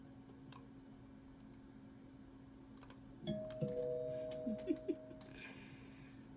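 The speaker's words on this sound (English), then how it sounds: "Ring that person's doorbell." A doorbell in a Roblox game rings a couple of short tonal chimes partway through, mixed with soft clicks and keyboard tapping, all quiet.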